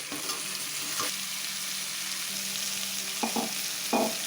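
Eggplant and drumstick pieces sauté in a pan for sambar, a steady close sizzle broken by a few sharp scrapes of stirring.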